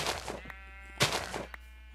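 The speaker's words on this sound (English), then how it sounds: "Well, I have found sheep" Sheep in a video game bleat twice in quick, nasal calls, quiet and alone over a steady low hum.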